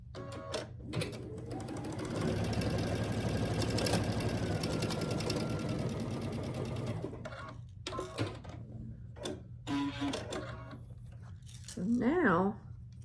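A sewing machine stitches quilt block fabric pieces, a close, rapid mechanical whirring run of several seconds, followed by shorter bursts of stitching amid handling noises, with a person talking at times.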